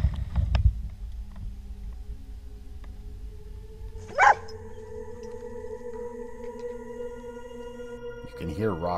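A dog barks outdoors in bare winter woods during an airsoft hide-and-seek game: a short, sharp bark stands out partway through over low rumble and faint background noise.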